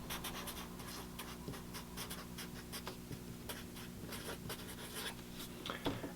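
Pen writing on paper, a quiet run of close scratchy strokes in quick irregular rhythm over a faint steady hum, no speech.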